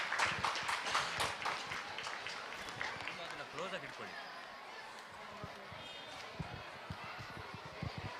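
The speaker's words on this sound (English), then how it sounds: "Let's give a huge round of applause for today's event." Audience applause at the close of a school biennial cultural meet, many people clapping in a busy rush that fades and thins over several seconds while voices murmur in the hall.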